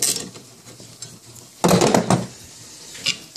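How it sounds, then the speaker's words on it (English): A tool works loose screws on a Ford F150 power steering pump, a close ratcheting and mechanical clatter with one louder metallic burst and a faint click afterward. "You got three screws that you need to loosen and take off."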